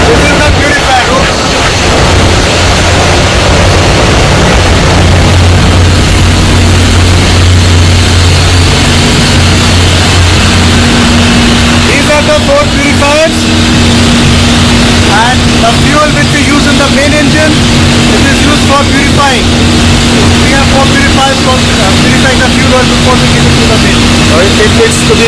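Machinery runs steadily in a ship's engine room purifier room, a loud continuous drone with steady low hums throughout, while people talk over it.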